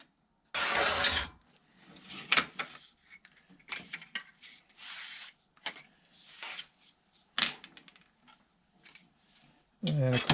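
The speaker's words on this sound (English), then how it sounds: "All you're doing is scratching a groove in the Formica." A small tool tip scratching a groove into Formica laminate on a carbon fiber landing gear mold, heard as short rough scraping strokes in irregular bursts, close and fairly loud, with brief pauses between passes.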